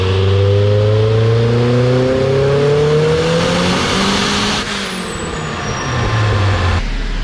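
A turbocharged car running E85 fuel at higher boost revs loudly and up close, its engine tones climbing and holding in a steady strained roar before dropping off near the end.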